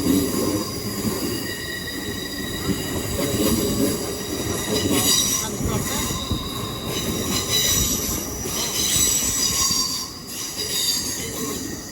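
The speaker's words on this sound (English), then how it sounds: "Definitely get a lot of flange off the wheels here." Train wheel flanges squealing at London Paddington on the Great Western main line, a continuous shrill metallic screech over rumbling wheels and rail noise, loud and close for the whole stretch.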